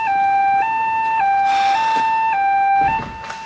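Ambulance siren wailing loud and close in a steady two-tone hi-lo pattern, alternating pitch roughly every half second, before dropping away slightly at the end.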